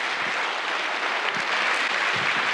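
An audience at an arts patronage forum gives sustained applause, a dense, even wash of clapping that stays loud and steady throughout with no pauses or voices.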